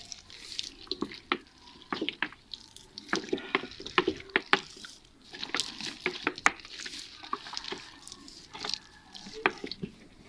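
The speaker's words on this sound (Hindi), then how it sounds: "इस क्यारी को भी सारी को मैंने पानी लगा दिया।" Water splashes and drips onto soil in a home garden bed planted with spinach, radishes, grapes and basil, an irregular patter of drops and small splashes with no talking.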